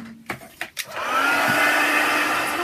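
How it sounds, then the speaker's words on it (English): A heat gun blows hard and steady over a mixed media art journal page, starting after a few short clicks and knocks and then running as a continuous whooshing drone to the end. "I'm going to give this a dry with my heat gun."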